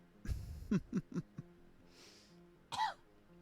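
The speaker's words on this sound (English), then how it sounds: "I might cough a bit" Close, quiet coughs and throat clearing: a short burst of several quick coughs, then a single throat-clearing sound a moment later, in a calm room with no other sound.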